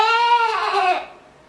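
A child imitates a sheep with one loud, close, wavering bleat that holds for about a second and then fades out.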